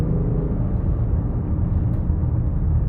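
BMW X5 M50d with its 400 hp diesel and eight-speed ZF gearbox cruising in sport mode, a steady low engine and road rumble inside the cabin, even and continuous with no talk.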